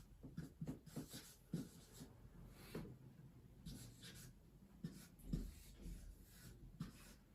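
Chalk or marker writing a date on a classroom board, with repeated scratchy strokes in short bursts, fairly close and moderately loud, alone without talk.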